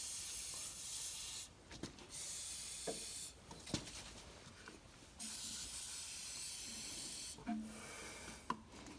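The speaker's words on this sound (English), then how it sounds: "put a little protector spray on there." Three long bursts of protector spray hiss up close onto semi truck battery terminals, separated by short pauses with faint clicks and handling noises.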